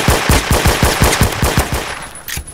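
Rapid pistol gunfire in an AdventureQuest Worlds video game shooter, a quick string of about a dozen sharp, evenly spaced shots, loud and close with nothing else over it.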